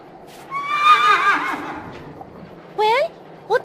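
A horse wearing a stuck boot whinnies in the video game A Vampyre Story, one loud drawn-out neigh followed by two short snorting whinnies, close and clear.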